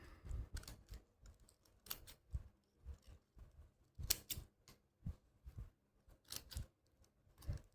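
Scissors snip excess material off a handmade alligator-clip hair accessory, a steady run of sharp, close cuts in quick irregular bursts with no talking.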